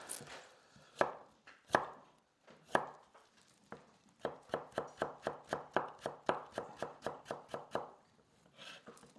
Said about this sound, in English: Cut those into thin strips.